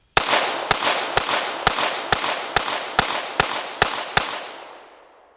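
Staccato C pistol firing 115 grain rounds at a range, ten sharp loud shots in a steady, evenly spaced string, the last report ringing out and fading.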